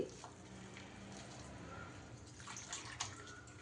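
Water trickles and splashes softly into jowar dosa batter mixed with onions, a faint, continuous pouring at close range with a few small drips near the end.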